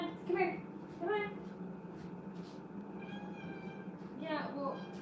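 Indoor house cat meowing several times in the room, drawn-out close meows in separate bursts over a quiet room hum, with a person talking in between.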